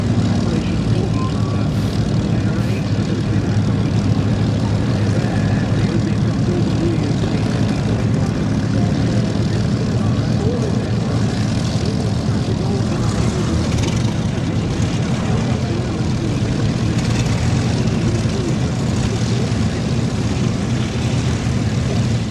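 Propeller aircraft drone overhead at the Battle of Britain Air Show at Duxford, a steady, broad engine roar that stays loud and continuous throughout, with faint crowd noise beneath.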